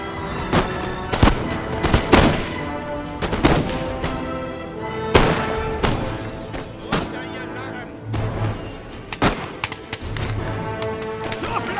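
Infantry musket volleys from the Napoleonic battle game Napoleon: Total War, Prussian campaign, crack out as repeated sharp reports at irregular intervals, layered over battle ambience and music with spoken game voices.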